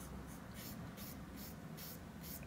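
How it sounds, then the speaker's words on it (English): A pencil eraser rubs on charcoal portrait paper in soft, evenly spaced scratchy strokes, close and quiet with no talk. "And I'm back to using that pencil eraser."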